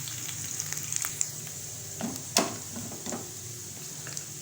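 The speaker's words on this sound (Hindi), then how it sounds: "हम इन सब्ज़ मिर्च को सिर्फ 1 मिनट पकाएंगे इसमें।" Chopped green chilies frying in a pan for sarson ka saag, a steady soft sizzle with a few brief stirring clatters, heard close and alone.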